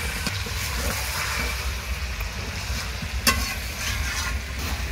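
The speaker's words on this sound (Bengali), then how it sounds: "এবার আমি ভেজে রাখা পেঁয়াজটাকে দিয়ে দেবো আর ভেজে রাখা আলুটাকেও দিয়ে দেবো। এবার কিছু সময় নাড়িয়ে" Chicken cooks village-style in a pan with fried onion and potato, sizzling steadily while it is stirred. Occasional scraping of the utensil sounds over the continuous frying hiss.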